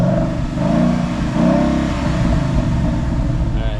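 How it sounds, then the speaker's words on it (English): A Ford Mustang GT engine with its stock exhaust revs and rumbles steadily up close, its low exhaust note swelling briefly mid-way with no talking. "Sounds good, but let's hear the exhaust."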